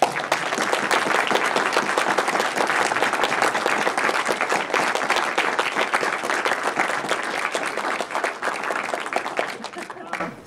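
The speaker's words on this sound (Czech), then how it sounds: "No a hlavní potlesk Michal Romancov." An audience bursts into sustained applause for a speaker at a political talk event, loud dense clapping with faint crowd noise, continuing strongly and tapering off near the end.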